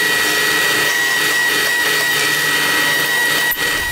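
A Forstner bit in a drill hogs wood out of a tray blank, giving a steady high whine with some grinding close by and a brief dip near the end.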